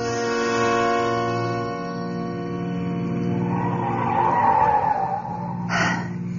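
A car speeds along a steep mountain road in a radio drama effect, engine droning steadily with a rising tire squeal and swell near the end, under a sustained music bed.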